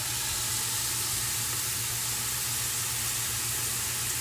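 Food browning in a pot for tomato orzo soup gives a steady, even sizzle and hiss that runs unbroken from start to finish, with a low hum beneath and no voices.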